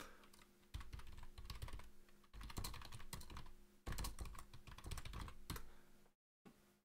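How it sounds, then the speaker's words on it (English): Someone types rapidly on a computer keyboard close to the microphone during a live stream, loud clattering bursts of keystrokes broken by short pauses, with a faint steady hum underneath. "you now also get to hear my thunderous typing."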